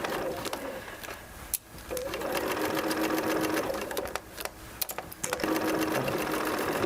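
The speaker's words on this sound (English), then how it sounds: "I'm not gonna backstitch because it's a basting stitch" A sewing machine runs a basting stitch in steady whirring bursts with brief pauses between runs, close and continuous, with light mechanical clicks.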